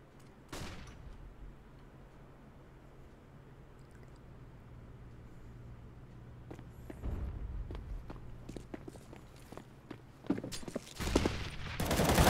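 Bursts of gunfire in a CS:GO professional league match: scattered sharp shots early on, then denser rapid volleys and rattling automatic fire building up toward the end, mixed with footsteps and a low steady hum.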